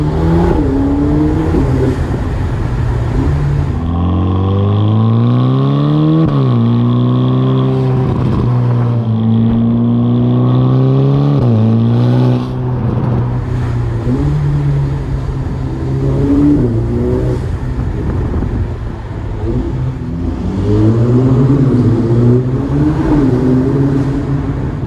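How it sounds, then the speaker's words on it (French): A Ferrari Roma's turbocharged V8 revs up and shifts repeatedly while driving on the Côte d'Azur, its rising and falling pitch sweeping loudly through several gears. "pour un moteur turbo, le V8 sonne très bien."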